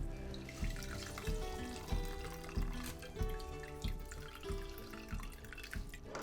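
Liquid drips and trickles steadily from a strainer while fire cider is strained, a close run of wet drops and small splashes repeating about every second, with no talking.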